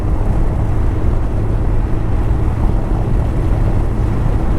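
A 1984 Honda CB700 Nighthawk motorcycle cruises in overdrive around 4,500 rpm at 50 mph, giving a steady, loud engine drone blended with heavy wind rush throughout.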